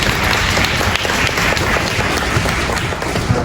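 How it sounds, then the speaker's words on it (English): A roomful of people gives a round of applause at a law school immigration seminar, producing dense, loud, continuous clapping with no talk over it. "Give me a round of applause."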